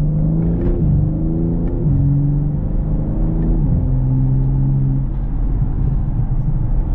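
A BMW M3 Touring engine accelerates on the road in its sportiest gearbox mode, with paddle shifts, a loud steady rumble rising in pitch through several stepped gear changes, heard from inside the car without talk.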